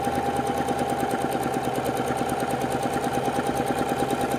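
Sewing machine stitching quilt fabric for half-square triangles, a rapid, even mechanical chatter with a steady motor whine, close and continuous throughout, no talking.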